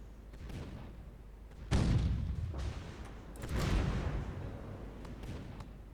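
Eighteen-inch naval guns on a warship in the NavalArt game fire in two heavy booming salvos, each a loud blast trailing into rumbling echo over a steady low background roar.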